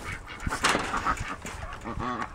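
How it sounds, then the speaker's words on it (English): Ducks quacking in a busy indoor room, a run of nasal honking calls rising near the end amid household clatter and a little background voice activity. "Bring a duck inside."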